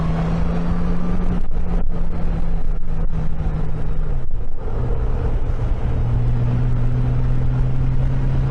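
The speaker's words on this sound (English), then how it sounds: "You can hear that rear tire skipping." Suzuki C50 motorcycle riding at steady speed, its engine drone loud and continuous with strong wind rush, pitch dipping briefly a few times as the rear tire skips, then settling slightly higher.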